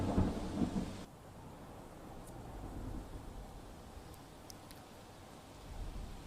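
Heavy monsoon rain over Kalol in Gandhinagar: a loud rumble of thunder opens, then a steady hiss of downpour continues with faint distant crackles, no voices.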